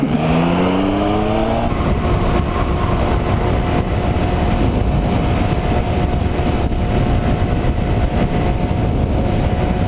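Motorcycle cruising on an interstate highway, a loud continuous roar of engine and wind rushing past the rider, with a brief rising engine tone at the start and no talking.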